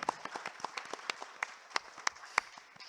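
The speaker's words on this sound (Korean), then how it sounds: "박수로 맞이해 주시면 감사하겠습니다." Applause from a small audience at an academic conference to welcome a presenter, thin and scattered clapping with individual claps clearly separate over a few seconds.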